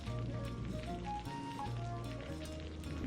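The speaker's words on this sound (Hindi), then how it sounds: "मैंने इतनी बारिश में भी फूलों के पौधों को पानी दे दिया है।" Dense, steady hiss of heavy rain pattering on surfaces, constant and close, with no talking.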